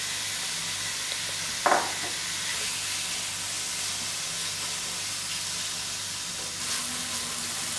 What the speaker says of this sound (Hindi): पैन में चिकन डालेंगे और इसको मीडियम आंच पे हम पकाएंगे